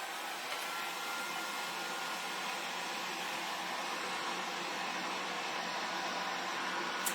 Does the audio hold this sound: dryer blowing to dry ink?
yes